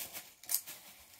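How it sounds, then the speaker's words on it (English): A few faint, crisp snips of scissors, one brief sharper cut in the middle, quiet with no talking. "Where are my scissors?"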